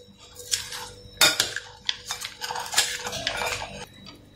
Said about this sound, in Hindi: फिर इसमें अंडा ऐड करें और फिर इनको सब चीज़ों को अच्छे तरीके से जो है वो मिक्स कर लें।